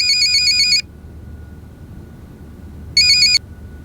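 A telephone ringtone sounds in two bursts, one under a second long and a second shorter one after a pause, loud and electronic with a steady warbling tone over quiet room background.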